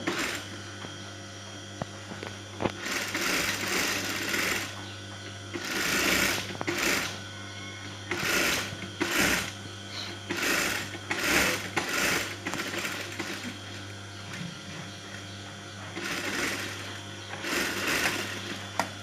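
A sewing machine runs in repeated bursts while stitching along the edge of a kameez ban collar, its motor whirring through each seam pass over a steady mains hum, with brief pauses between runs.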